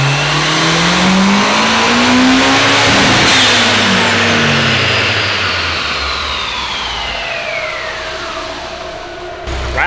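A Nissan S15 roars on a dyno, its engine revving hard and loud with rising pitch, peaking near the start and then slowly winding down, heard close and alone.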